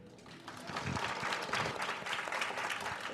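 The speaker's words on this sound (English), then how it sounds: "An excellent and very gracious repurposing of your applause" Audience at a talk applauding for a birthday, a brief, steady wash of many hands clapping at moderate distance, with no voices.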